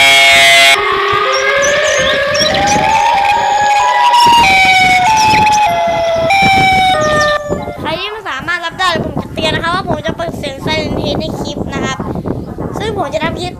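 A loud, wailing Siren Head monster siren sound that glides up and down, followed by warbling, creature-like howls, all filling the space without pause.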